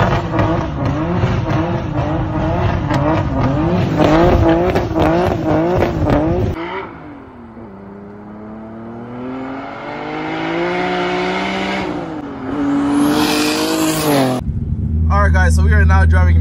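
A turbocharged BMW E30 race car with clutch and boost trouble driving on the road, its engine droning and shifting pitch through revs and gear changes, loud and close throughout, with a person talking over it.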